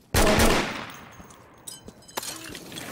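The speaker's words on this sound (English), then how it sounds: "I'm getting shot at" Gunfire in the tactical shooter game Insurgency: a loud, sharp opening shot at close range trails into a decaying echo, followed by several fainter scattered distant shots.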